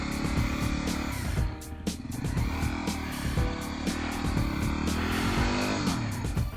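A Yamaha WR250R motorcycle rides along a road, its engine humming steadily with shifting pitch while sharp clicks and wind buffeting punctuate the drone throughout.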